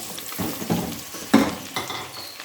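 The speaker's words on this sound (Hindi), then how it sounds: "अब हम इसमें प्याज डालेंगे और प्याज को हमने अच्छी तरह फ्राई करना है" Onions hit hot cooking oil for a gobi chicken dish, sizzling crisply as a spoon scrapes and clatters against the pan in several short bursts.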